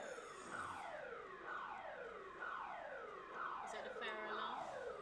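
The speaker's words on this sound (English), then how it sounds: "that a fire alarm?" A wailing siren sweeps up and down repeatedly outdoors, passing by at a moderate distance and fairly faint, steady across the whole stretch with room noise beneath.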